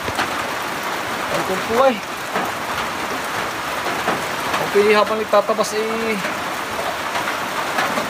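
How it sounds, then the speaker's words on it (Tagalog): Heavy rain pours down steadily on a farm, a dense continuous hiss throughout, with someone talking over it. "Bigla pong bumuhos ang ulan."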